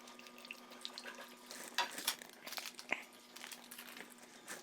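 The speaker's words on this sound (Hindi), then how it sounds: "अब इसमें पानी गिराते हैं" Water pours into a pan of raw mangoes as Keri chutney is cooked, making a soft splashing and trickling sound with a few crinkly clinks, fairly quiet and close, with no talking.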